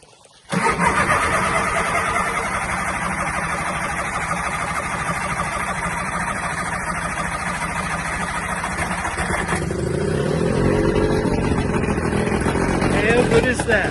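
A two-stroke outboard engine on an aluminium tinny kicks into life after a short quiet moment, then runs steadily, loud and close, with a shift in tone near the end as it revs slightly.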